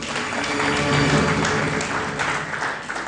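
A studio audience claps for a contestant on a quiz show, dense sustained applause filling the hall throughout, fairly loud and unbroken.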